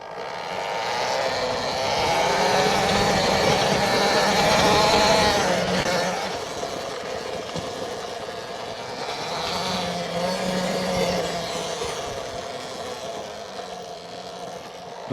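A large, powerful 32 kW Talaria Komodo electric motorcycle rides along with a steady whirring drive tone and wind rush, swelling and easing with speed over about fifteen seconds and no talking.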